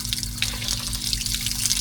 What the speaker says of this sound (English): there's nothing like a nice cold shower